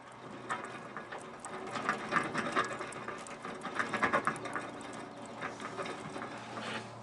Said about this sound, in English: I've tightened up these bolts.